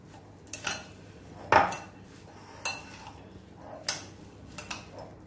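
Bihari-style bhunja being mixed in a bowl with a spoon, giving a few sharp clinks and scrapes at irregular intervals, close and fairly quiet, with no voices.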